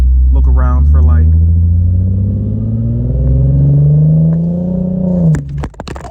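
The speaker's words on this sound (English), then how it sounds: "The car definitely sounds different." A Nissan 370Z with an exhaust leak runs with a loud, rough engine drone that rises steadily in pitch as it revs, then cuts off into clattering. Voices are heard briefly near the start.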